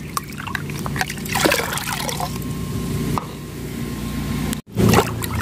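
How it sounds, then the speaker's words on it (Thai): Liquid fertilizer being poured into 20 liters of plain water and mixed for lemon trees, with trickling, splashing and plopping sounds close by and a brief pause near the end. "จากนั้นก็เตรียมน้ำเปล่า20ลิตรนะคะเราเติมปุ๋ยไปเลยนะคะใส่ไปเลยนะคะผสมไปเลยจ้า"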